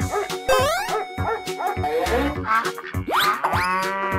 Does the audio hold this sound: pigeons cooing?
no